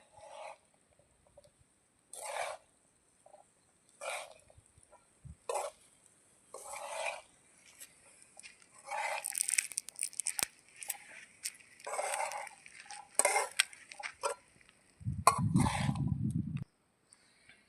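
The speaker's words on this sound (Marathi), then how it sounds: "हा मी अर्धा किलो शाबुदाना घेतलेला आहे आणि आता हलवून घ्यायचं आहे चांगलं" Half a kilo of sabudana (tapioca pearls) being stirred in a pan for khichdi, heard as intermittent scraping and rustling strokes in short bursts, with a louder, fuller scrape near the end.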